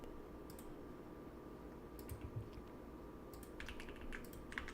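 Quiet, rapid clicking of a computer keyboard during a TypeRacer race, irregular bursts of keystrokes growing busier toward the end over a faint background hum.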